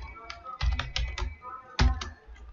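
Fingers tap out code on a computer keyboard in quick, irregular bursts of sharp clicks, with a brief pause midway before another cluster of keystrokes, close and fairly quiet in an otherwise still room.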